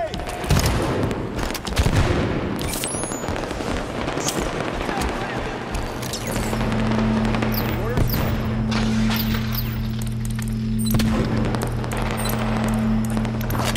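Rapid gunfire and explosions crackle through a Halo 5 Warzone battle, loud bursts of shots with a steady engine-like drone beneath and voices calling out over the fight.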